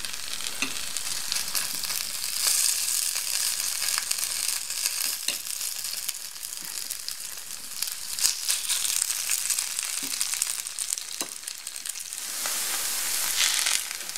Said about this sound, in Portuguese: Quando o óleo estiver quente, é só colocar uns montinhos da batata, montinhos de batata ralada, formando as panquecas.